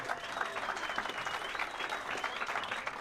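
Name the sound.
round of applause for the league director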